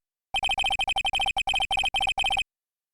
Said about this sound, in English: Sorry, I got another notification from work.